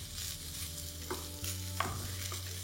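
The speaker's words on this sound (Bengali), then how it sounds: "ব্যাস তারপর এটাকে একবার ভালো করে মিশিয়ে নিন।" Butter garlic paneer with pepper, oregano and chili flakes is stirred in a pan, a soft low sizzle with a few brief scraping stirs, quiet and close with no voices.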